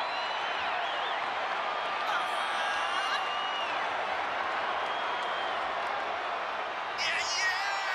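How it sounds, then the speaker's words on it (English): A large crowd in a WWE 2K24 wrestling video game roars and cheers steadily throughout, a broad wash of noise with occasional brighter whistles rising above it. "Listen to this ovation."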